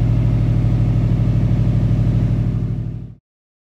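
A Subaru Impreza-powered Metro 6R4 replica's engine revs loud and close with a rapid, rough pulsing rumble, holding steady before dying away quickly into silence.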